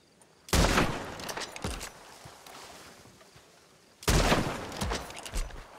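Two separate volleys of rapid gunfire in Red Dead Redemption 2 (RedM), each a loud cluster of sharp shots followed by quieter trailing pops, with a pause between them and no talk.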